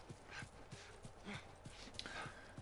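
Horse hooves clip-clop in a steady walking rhythm inside a video game, fairly quiet and close, repeating evenly throughout with faint background ambience.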